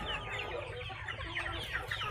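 Laying hens in a coop holding about 200 birds cluck and chatter constantly, with many overlapping calls at moderate volume and no human voices.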